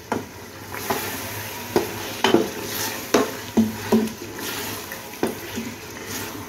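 Boneless chicken being stirred into fried spices in a pot for haleem, with repeated scraping strokes and clinks of a spoon over a low sizzle, close and moderately loud.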